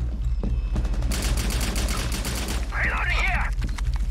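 Rapid bursts of gunfire in the Rainbow Six Extraction video game fill the middle of the clip, loud and sustained over a low rumble, followed by a warbling electronic effect.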